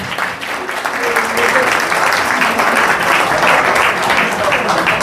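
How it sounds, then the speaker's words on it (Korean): Loud, sustained applause from a large lecture audience, dense and continuous throughout, with faint cheering mixed in. "우리 단우 여러분 다시 한번 뜨거운 박수로 감사의 인사 전해주시기 바랍니다"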